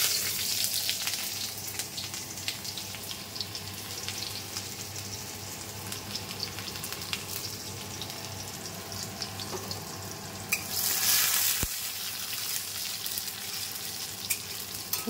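Onions frying in hot oil with spice tempering give a steady, close sizzle throughout, with light scraping and stirring and a brief louder burst near the end.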